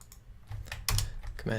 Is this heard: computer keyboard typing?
yes